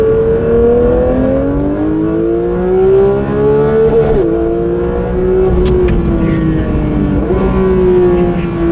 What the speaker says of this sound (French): C'est ça la GT3. C'est les 9000 tours minute.